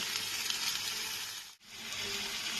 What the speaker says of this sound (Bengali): এবার কুমড়োটা একটু ভেজে নিয়ে আমি এর মধ্যে মশলাগুলোকে দিয়ে দেবো